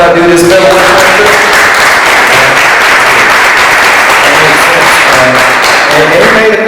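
Audience applause at a community gathering in DC on small Black businesses and gentrification: a loud, dense, steady wash of clapping that fills the whole stretch, with voices mixed faintly underneath.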